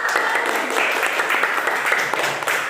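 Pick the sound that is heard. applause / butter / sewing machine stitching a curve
applause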